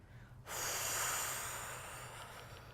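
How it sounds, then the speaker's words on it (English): A long breath out during a voice coaching exercise, starting abruptly and holding as a steady, soft airy hiss for about two seconds before slowly tapering, close and alone. "So let the breath, so breathing out."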